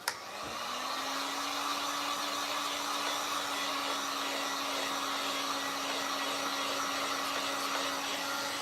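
A hair dryer runs continuously while drying paint on a Dollar Tree frame candlestick, a steady close whoosh with a constant motor hum after a click at the start, no talking.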